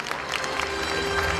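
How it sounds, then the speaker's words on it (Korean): Steady applause from an audience at a forum opening ceremony fills the moment, a dense patter of many hands clapping without a break. "여러분 큰 박수 부탁드립니다"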